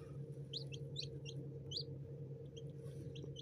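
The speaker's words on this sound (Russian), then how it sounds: "И я поглядываю за цыплятами." Newly hatched chicks from a home incubator give short, high, faint cheeps in scattered bursts over a steady low indoor hum.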